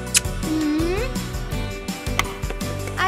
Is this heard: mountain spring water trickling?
no